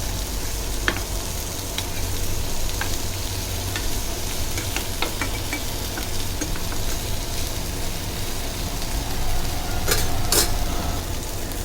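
Halwa fish sizzling and frying in a pan for a Malvani thali, a steady close crackle with occasional sharper pops and stirring sounds, no voices.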